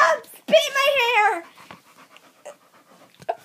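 A dog pants in quick breathy bursts while playing on a bed, close to the microphone and opening with a high, wavering whimper-like whine, followed by scattered soft rustles and short sounds.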